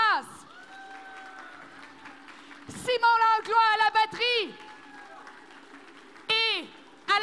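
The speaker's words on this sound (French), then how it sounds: "On peut les applaudir." A conference audience applauds the musicians at an opening ceremony, bursts of clapping and cheering rising under a presenter's amplified voice introducing band members in French, loud and close in a large hall.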